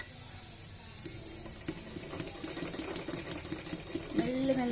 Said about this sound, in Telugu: ఓకే, ఇప్పుడు నేనైతే స్టిచ్ వేసేస్తా.